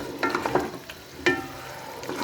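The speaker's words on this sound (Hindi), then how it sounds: "चिकन को मसाले में अच्छी तरह फ्राई करते हैं।" Chicken frying in spice masala in a pan, a close, steady sizzle with a few sharp stirring scrapes of a spoon against the pan.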